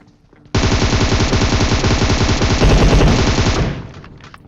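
A long, loud burst of automatic fire from an M416 rifle in a shooting video game, rapid continuous shots for about three seconds before trailing off, with no voices.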